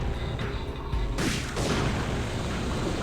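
A grenade explodes in the video game Parasite Eve 2, a single booming blast over a steady background rumble, followed by a lingering noisy decay.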